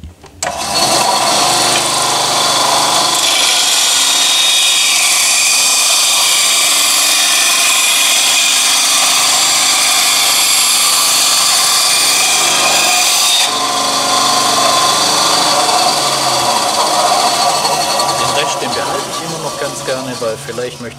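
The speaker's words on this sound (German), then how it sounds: "genau das sägen wir jetzt so zu" A power saw cuts through a sheet of Kydex plastic in a workshop, producing a loud, continuous rasping whine that holds steady for about twenty seconds before easing near the end.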